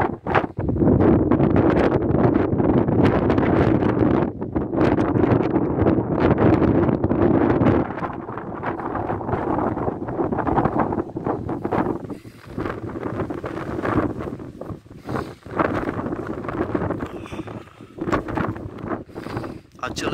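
Strong winter wind high on Mount Athos, just below the summit, roars and buffets into the microphone as a steady, loud rush that eases and gusts unevenly, with no one speaking.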